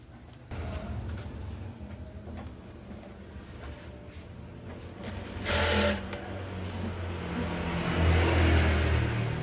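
A sewing machine is test-run, its motor whirring steadily for several seconds with a sharper burst midway and a rising hum toward the end, close by and without talk.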